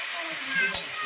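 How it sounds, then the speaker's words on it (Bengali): Vegetables for a cauliflower curry fry in hot oil in a pan, producing a steady close sizzle with one brief utensil knock partway through. "প্রথমে আমি সবজিগুলো ভেজে নেবো ভালো করে"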